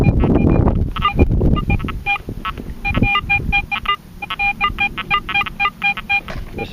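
Metal detector signal tones ringing out in the field over a target with iron around it, a run of repeated short high beeps in uneven bursts, loud and close, with handling noise and low rumble beneath.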